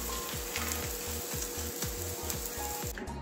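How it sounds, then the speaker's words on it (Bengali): Cabbage-stuffed parathas fry in a pan with a close, steady sizzle, punctuated by a regular series of soft thuds as they are pressed and turned. "বাকি সব পরোটাগুলো এইভাবেই ভেজে নেব"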